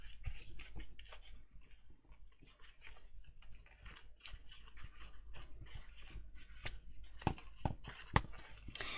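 Sticky scissor blades being rubbed clean with a paper towel, a quiet, close scratchy friction that repeats in short strokes, with a few sharper metallic clicks toward the end.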